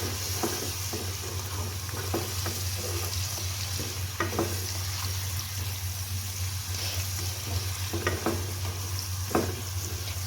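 Karela sabzi with green chillies frying in a pan, a steady soft sizzle running throughout with scattered clinks and scrapes of stirring, no talking.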